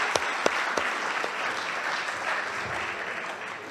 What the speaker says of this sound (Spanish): que le podemos brindar también un aplauso por su participación